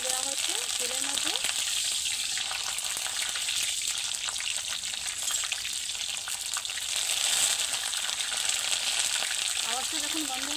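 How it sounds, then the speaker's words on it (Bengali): Raw curry leaves crackle and sizzle in hot oil, a dense, steady frying hiss that runs continuously and close throughout, with occasional sharper pops. "প্রথমেই আলাদা একটা আওয়াজ হবে, যেহেতু কাঁচা পাতা দেওয়া হচ্ছে তেলের মধ্যে।"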